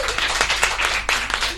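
A radio studio audience applauds before an a cappella singer performs. Close, brisk clapping from a small group keeps up a quick, uneven rhythm throughout.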